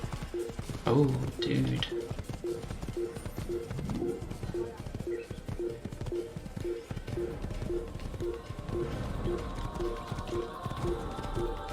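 Horse hooves gallop in a rapid, regular clip-clop rhythm in Assassin's Creed, close and steady under a game soundtrack, with a man's brief spoken exclamation near the start.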